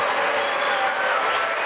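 Debate audience booing loudly as a dense, steady crowd roar lasting under two seconds, with no clear individual voices standing out.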